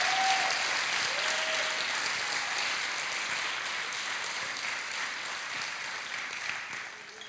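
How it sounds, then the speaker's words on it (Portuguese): A church congregation applauds steadily, a dense wash of many hands that fades slightly toward the end, heard without talk over it. "Aplauda o Senhor"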